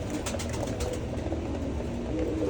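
Pigeons in a loft coo in a soft, overlapping murmur, several birds close by over a continuous low rumble of background noise.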